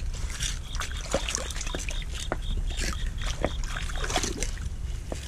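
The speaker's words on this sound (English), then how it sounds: "It's nice about having the creek, because I can wash bottles off instantly." An old dug-up glass whiskey bottle being rinsed in a shallow creek, with soft trickling, light splashes and sloshing water up close, plus scattered clinks and small knocks of handling.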